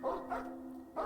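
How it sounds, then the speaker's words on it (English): Dog barking in the survival video game Mr Prepper, three short quiet barks over about a second above a steady low hum. "I hear his dog."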